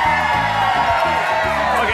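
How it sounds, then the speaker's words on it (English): A crowd whoops, yells and cheers loudly on cue at a cheeseburger eating contest in Caseville, Michigan, a dense continuous roar of many voices sustained for the whole stretch. "I'd like you to scream like crazy when I win, okay?"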